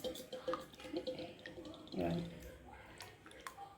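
Water splashes and sloshes as it is poured and stirred into rava dosa batter in a bowl, soft and close, with a person talking over it.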